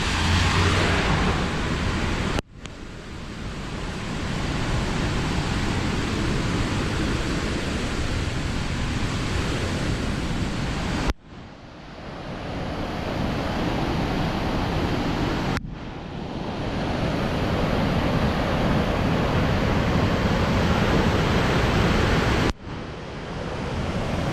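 Very loud, heavy rain pours down on a homestead as a continuous, roaring wash of noise that never lets up, broken only by a few abrupt cuts, with no voices.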